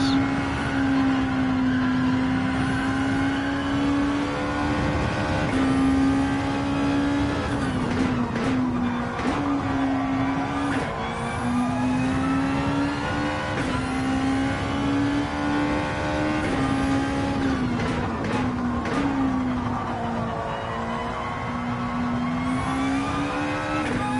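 Race car engine roaring steadily through a practice lap at the Tesco circuit, loud and close with continuous revving, pitch rising and dipping through gear changes and corners on a low-grip track.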